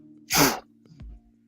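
A single sharp sneeze bursts out loud and close, followed by a short low sniff or murmur against a quiet indoor room hum.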